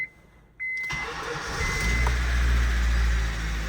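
A manual Acura RSX with the clutch pressed cranks briefly in freezing winter cold, then its engine catches and settles into a loud, steady idle after a short chime beforehand.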